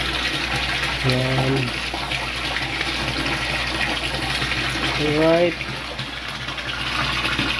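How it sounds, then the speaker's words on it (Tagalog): Water is pumped into a super-intensive 9 sq m tilapia pond, making a continuous loud gushing and splashing that runs throughout, with someone briefly speaking over it. "nagdadagdag po tayo ng tubig ngayon"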